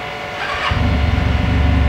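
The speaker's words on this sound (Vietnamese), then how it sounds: "Chậm nổ máy thử cho anh em ha." A used motorcycle with 19,000 km on the odometer starts up after a brief cranking sound, then settles into a steady, loud, throbbing idle close by.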